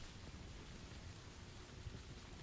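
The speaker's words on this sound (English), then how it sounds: "Yo, the rain is hefty in here" Heavy rain hisses steadily and densely in PUBG, a continuous close wash of sound with a faint low rumble and no talk.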